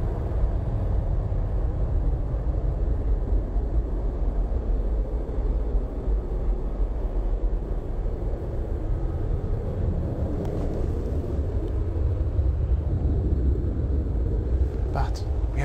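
A Ryanair airliner lifts off from Bristol Airport, a steady, heavy rumbling roar that holds at a constant loud level throughout.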